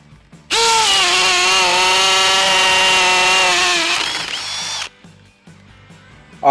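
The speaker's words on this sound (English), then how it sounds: "let's go with the hammer drill on high setting" A Milwaukee M18 FUEL Gen 3 cordless hammer drill whines loudly at high speed for several seconds, pitch shifting slightly before it winds down and stops.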